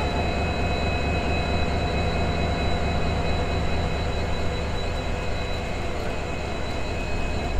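The Kanchan Kanya Express pulling out of Malda Town station at night, a loud continuous rumble and drone of the moving train heard from on board, with no voices.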